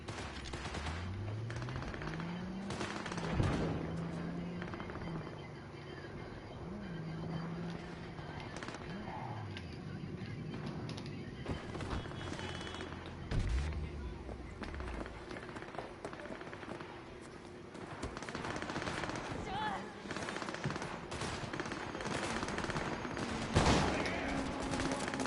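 Gunfire from a heavy-kicking gun in Cyberpunk, with repeated bursts of shots running through the whole stretch under steady game noise, music and scattered voices.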